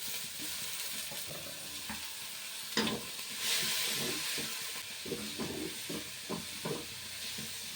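Onions, curry leaves and garlic fry in hot oil in a pan, a constant close sizzle and hiss broken by repeated scraping stirs and a short burst of louder spitting.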